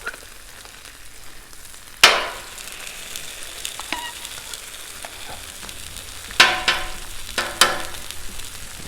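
Potato pieces frying in butter on a Blackstone griddle: a steady low sizzle runs throughout, with sharp spatula scrapes and clanks on the steel near 2, 6.5 and 7.5 seconds, close and fairly loud, no talking.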